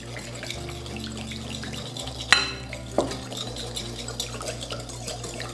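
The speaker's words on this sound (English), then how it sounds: "We're gonna give this a whisk." A whisk stirs mayonnaise, lime juice and soy sauce into a slaw dressing for shrimp tacos, soft swishing and scraping in a bowl with a couple of sharper clinks against the side, no voices.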